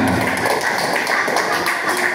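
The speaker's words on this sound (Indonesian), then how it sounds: "Tepuk tangan untuk kelompok 5" Classroom applause for a group of students after presenting their steps, a dense, steady patter of many hands clapping together at close range for about two seconds, with no talk over it.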